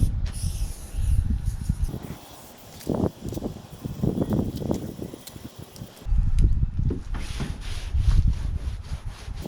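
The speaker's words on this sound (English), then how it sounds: "I'm going to use a basic degreaser" Basic degreaser sprayed onto a kayak hull, with rough hissing bursts and rubbing noises in close, uneven pulses and a short pause midway, no talk.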